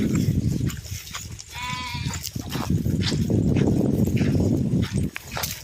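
A flock of sheep bleating close by, several overlapping calls over a shuffling, rustling background.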